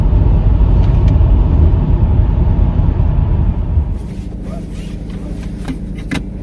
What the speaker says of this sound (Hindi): इतनी भीड़ है रास्ते में, ट्रैफिक बहुत है